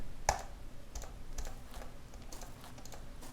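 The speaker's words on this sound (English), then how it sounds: "keyboard sounds" Soft computer keyboard typing during Minecraft play, with scattered quiet key taps and clicks and one sharper click near the start, close and faint in a hushed room.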